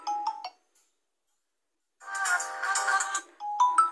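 Default ringtone on a Redmi 10 Prime smartphone, a bright melodic electronic chime: a short burst of notes, two seconds of silence, then a longer ringing phrase followed by another tone, clear and close.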